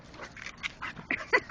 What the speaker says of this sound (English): So that's what your bark sounds like. You can bark!